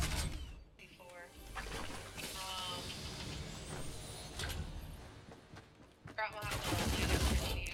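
Rapid gunfire in a shooting video game, with dense bursts running almost throughout and loud, close shots returning near the end, mixed with someone talking over the action.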